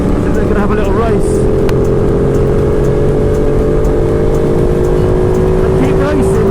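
Motorcycles race on a road in Spain, among them a 2017 Super Duke, their loud engines whining and rising steadily in pitch under wind roar, with people talking over the riding.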